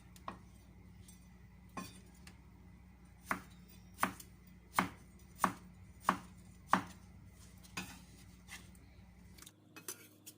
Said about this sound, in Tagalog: So, ang hiwa natin dito is tulad ng french fries.